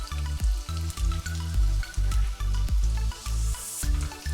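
A tuna cutlet coated in bread crumbs fries in oil on low heat, heard as a close, crackling sizzle punctuated by regular low thumps and bubbling pops.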